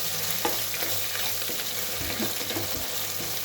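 Onions and garlic paste fry in a pan for a South Indian dum biryani, a continuous close sizzle overlaid by repeated scraping and tapping stirs.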